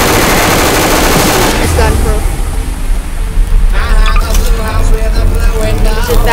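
Rapid gunfire in the Garry's Mod video game, loud dense bursts of automatic shots rattling continuously, then thinning into scattered cracks and ricochet-like pings.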